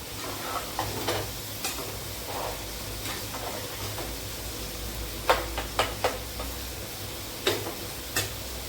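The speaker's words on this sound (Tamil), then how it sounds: "இப்போ நம்ம கீரை தாளிச்சுக்கலாம்" Greens are tempered in a pan for a home lunch, giving a continuous close sizzle with sharp crackles and ticks bunched in the middle, and no talking.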